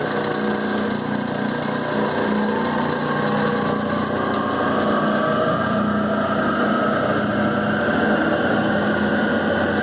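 Clausing variable speed drive on a machine tool spinning up to full speed, a loud, steady mechanical whine with layered tonal hum and a pitch that slowly rises as it reaches top speed, running without talking.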